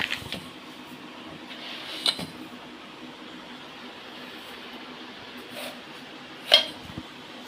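A spoon stirs white pumpkin (ash gourd) halwa with sugar in a pan at home, making soft, sparse scrapes and clinks over a quiet room, with one sharper knock near the end.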